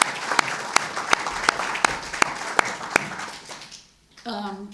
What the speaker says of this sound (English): I would really like to offer a round of applause for Jean Roseman.